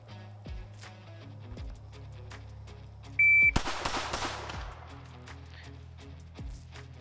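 Compact pistols, a Smith & Wesson M&P and a Shadow Systems, fired in a close-quarters retention drill: a loud, sharp burst of shots with crackling decay midway, surrounded by quieter handling clatter and short clicks.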